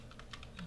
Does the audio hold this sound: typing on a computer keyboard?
yes